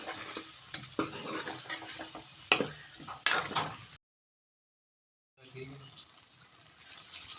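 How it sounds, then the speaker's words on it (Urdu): Potatoes with spices frying in a pan as a spoon stirs, giving scraping, clinking metal sounds and soft sizzle, then a brief silence before quieter stirring resumes, with a voice speaking over parts of it. "اس کو تھوڑا سا بھونوں گی"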